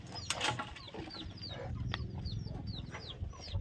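Hens cluck repeatedly in a rural farmyard in the morning as they are let out, with soft clucks and short calls overlapping at close to moderate distance and small birds chirping in the background.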